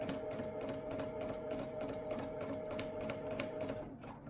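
A sewing machine doing free-motion stitching runs a quiet, rapid, regular needle patter with a faint steady motor hum, continuing for about four seconds and then slowing and stopping near the end.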